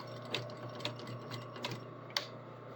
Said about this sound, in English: I'm going to double stitch the zipper in place.